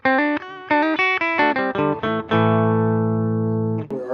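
Electric guitar on its bridge pickup, with a bright, trebly tone, plays a quick series of notes, then a sustained chord rings out and cuts off.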